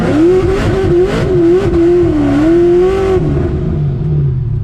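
A ProCharged 441 LSX engine in a C6 Corvette Z06 pulls hard from third gear, its loud supercharged wail rising and wavering as the car accelerates, then dropping away as the throttle lifts.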